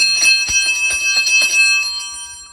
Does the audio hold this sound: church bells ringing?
yes